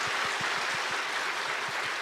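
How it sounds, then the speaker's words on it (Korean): Brisk applause from a Korean church congregation for discipleship trainees and their supporting pastors during a Sunday worship service, a dense even wash of clapping that holds steady throughout. "우리 다 함께 훈련생과 후원자 목사님을 향해서 힘찬 박수 부탁드리겠습니다"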